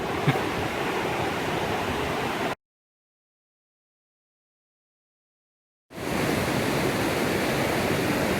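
A small waterfall at Harper Creek Falls in Pisgah National Forest roars with a steady, dense rush of water, close and loud. The sound cuts out to complete silence for about three seconds, then resumes.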